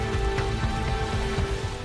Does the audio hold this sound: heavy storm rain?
yes